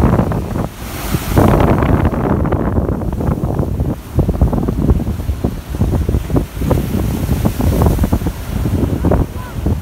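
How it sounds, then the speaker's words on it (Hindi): Sea waves roll in along a corniche while cold wind buffets the microphone, making a steady, loud wash of surf and gusts that continues throughout. "शोर तो आपको वैसे भी सुनाई दे रहा होगा लहरों का।"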